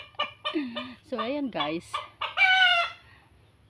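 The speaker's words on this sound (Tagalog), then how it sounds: "ayan, ingay ng mga manok." Chickens cluck and a rooster crows loudly nearby in a Philippine backyard vegetable garden, with a brief spoken remark at the start.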